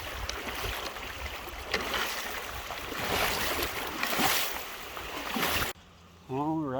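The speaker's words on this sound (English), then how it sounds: "we're ready to do a water crossing" A hiker wades across Abrams Creek on the trail to Abrams Falls, loud splashing and rushing water throughout, cut off by a sudden drop near the end.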